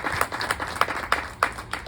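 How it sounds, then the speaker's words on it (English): Scattered clapping from a small audience of women at a business networking event, a handful of distinct claps standing out over a soft, thin patter. "you please clap your hands for being here today?"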